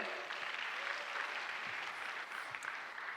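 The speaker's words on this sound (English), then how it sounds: "Round of applause for them too" An audience at a Kathak dance academy recital gives steady, even applause for the donors, a soft wash of clapping from a crowded hall, with a faint voice briefly audible.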